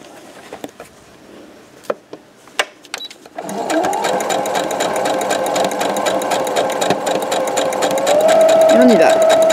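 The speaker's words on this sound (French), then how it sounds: "On coud les 4 côtés." A sewing machine runs steadily for several seconds, stitching the four sides of fabric for a checkbook and card holder. It starts after a few scattered clicks and handling taps, and the whir ends with a brief pitch shift as it stops.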